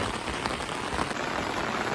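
Steady, dense rain falls on a village in the Samahni valley of Azad Kashmir, a continuous close hiss of drops striking surfaces with no voices.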